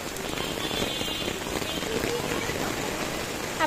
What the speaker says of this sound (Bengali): এত ঝুম বৃষ্টি শুরু হয়ে গেছে,